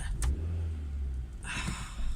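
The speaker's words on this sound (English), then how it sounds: "I know I'm being a bit rev heavy today" A car engine revving in short bursts, a low rumble swelling twice over a couple of seconds, heard close from inside the vehicle.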